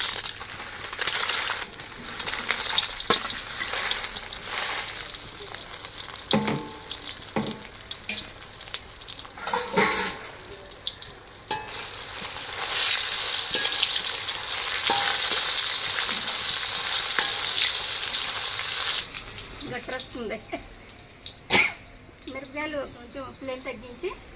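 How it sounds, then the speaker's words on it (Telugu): Red chillies fry in hot oil on a stove with a steady, loud sizzle and occasional stirring scrapes, brief voice sounds breaking in now and then. "ఇదిగోండి ఆయిల్ వేడైంది ఇప్పుడు మిరపకాయలు వేసుకోవాలి"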